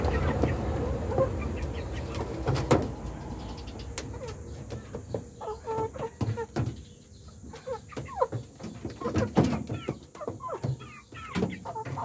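Three-month-old Rhode Island chickens on a farm cluck and murmur in short, scattered bursts at close range, with a few sharper calls standing out over a faint background.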